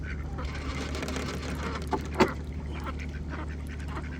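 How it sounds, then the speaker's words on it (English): A small duck on a lake gives a few soft quacks, with one brief louder call near the middle, over a steady low engine-like hum and faint outdoor background. "Listen how her little quacks."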